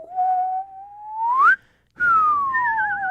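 A person whistles a sliding tone that rises to a peak, breaks off briefly, then resumes with a falling glide and a wavering warble, close and clear with no talking.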